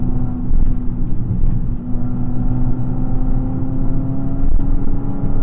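A 5-speed manual Fiat 500 cruises along, its small engine a steady droning hum with road rumble and slight rises in pitch, close and continuous from inside the cabin.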